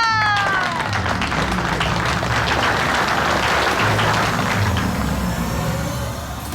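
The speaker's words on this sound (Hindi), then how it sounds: "तालियां!" Applause fills a Hindi TV drama scene, broadband and sustained throughout at steady loudness, with a brief tonal chirp at the start and faint voices and music underneath.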